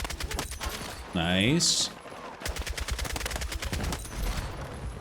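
SOR assault rifle fired in Battlefield 6, rapid bursts of close automatic gunfire with sharp repeated cracks, a brief pause between volleys, and a short spoken remark over the shots.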